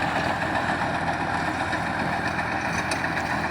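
A tractor running with a Novo 605 rotavator on farmland, a dense continuous engine drone with steady rumble and no change in rhythm, close and fairly loud, no voices.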